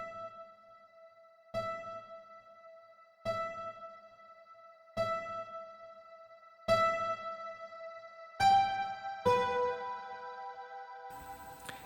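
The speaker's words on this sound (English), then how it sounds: "we also have this harp-like sound, which originally sounded like this" A harp-like synth in its original dry form plucks a repeating note in regular, evenly spaced strikes, each decaying quickly, then rising into a short run of higher notes toward the end, heard alone and fairly clear.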